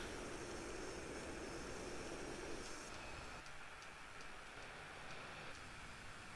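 Faint, distant roar of an F-5 jet's engine at the end of a runway in the DCS flight simulator, a steady, hissing broadband rumble that dips slightly partway through.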